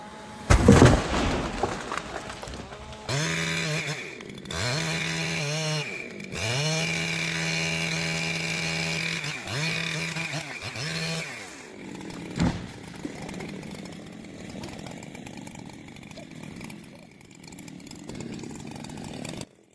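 A Husqvarna 3120 XP chainsaw cuts through logs with a loud, close, revving whine that bogs and rises in long cuts, then drops to a quieter idle near the end.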